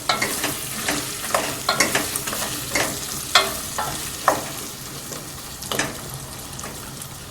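Spices frying in ghee in a pan for an Ekadasi bhaji, a loud, close sizzle with repeated spoon taps and scraping strokes at an irregular stirring rhythm, no speech.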